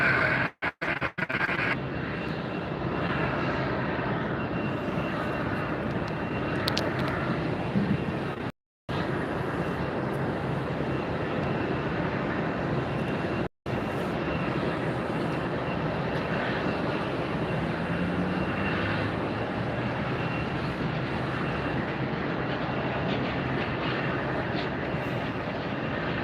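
A jet airliner, a Southwest flight, roars down runway 19 right at Tampa Airport, a broad, loud engine rush that holds steady for nearly half a minute, broken by two brief dropouts.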